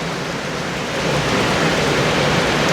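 Rain falls steadily as an even, hissing wash of noise, growing a little louder partway through, with no voices over it.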